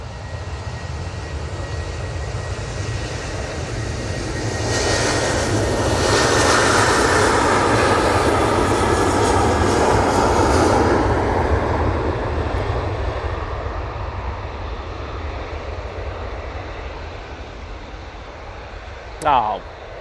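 Helvetic Embraer E2 jet arriving from Zurich at Manchester Airport, a broad engine roar that builds, peaks near the middle and slowly fades, with a brief sharp sound just before the end.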